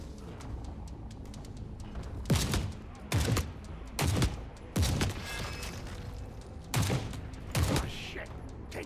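Gunfire from The Forever Winter video game arrives as about seven sharp, loud shots or short bursts, irregularly spaced over a rumbling battlefield background.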